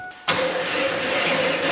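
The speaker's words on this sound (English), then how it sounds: "the starter can hardly turn it over" A Camaro's starter labors to crank the engine because of a clutch or transmission fault, kicking in abruptly after a brief quiet moment and grinding on as a loud, continuous, heavy churning whir, with no voices.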